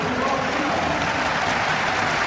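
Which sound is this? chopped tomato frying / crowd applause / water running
crowd applause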